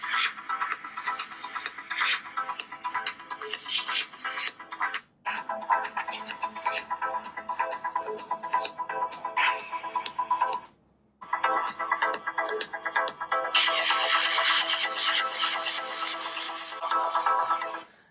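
An Honor Play smartphone's loudspeaker plays music at full volume, bright and continuous with brief dropouts, heard alone without talk for about eighteen seconds.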